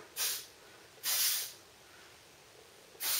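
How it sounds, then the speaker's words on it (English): Three short aerosol spray bursts of Got2b Too Sexy Big Volume hairspray sprayed under lifted hair, each a bright hissing blast about half a second long, separated by quiet pauses. "lift my hair and spray it sort of under"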